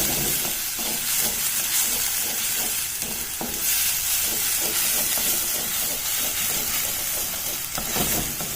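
Masala urad dal vadas frying in oil over a low flame give a loud, continuous bubbling sizzle and hiss, with faint stirring movements beneath it throughout.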